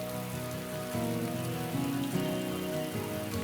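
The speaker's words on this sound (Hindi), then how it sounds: "मोहित, चलो बारिश।" Steady, dense rainfall patters loudly and continuously on a surface, with no pauses or voices over it.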